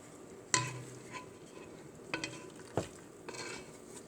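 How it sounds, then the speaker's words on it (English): A utensil scrapes and clacks against a pan while noodles are stirred, producing a few sharp knocks and short scrapes over a faint sizzle, quiet and close with no voice. "I'm going to stir this around one more time"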